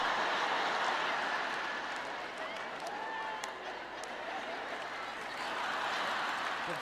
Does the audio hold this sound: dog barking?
no